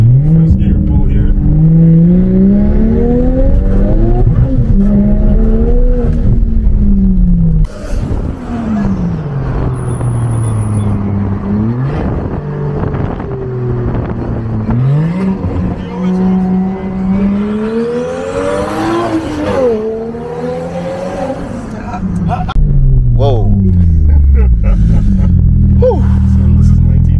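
BMW E82 135i pulling hard in first gear, loud engine rising in pitch through repeated revving sweeps and gear changes over nearly half a minute, with people talking over the roar.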